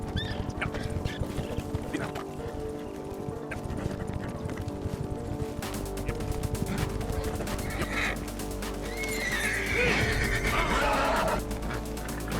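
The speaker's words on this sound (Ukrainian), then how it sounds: "Після того, як ти сів на коня, він почне нервувати." Hooves of a Missouri Fox Trotter horse clopping in the game Red Dead Redemption 2, under a dense, steady layer of game ambience and music with faint bird calls, loud and continuous throughout.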